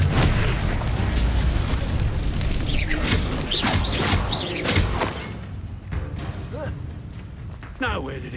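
Spell-casting effects from the Hogwarts Legacy video game, a dense stack of booming thuds, crashes and whooshing magical bursts in a battle against poachers, loud and continuous, with sweeping tonal swishes and a shouted voice over the top.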